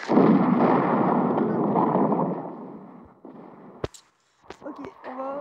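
Grenade blast in a war video game: a long rumbling explosion that slowly fades, followed by a few sharp cracks and pops, loud and close.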